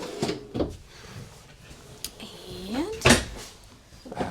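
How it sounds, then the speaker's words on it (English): Two pull-out drawers in a Grand Design Imagine 2300MK camper trailer's bar area slide open and shut nearby with soft thuds and rolling runners, spaced irregularly, with a brief word spoken. "right here at the end of this neat little bar area, you have these two pull-out drawers"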